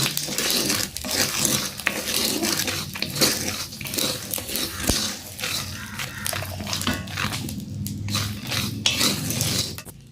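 Peanuts roasting in a pan over a wood-fire stove, with scattered sharp pops and clicks mixed with scraping and stirring of the nuts, close and busy throughout.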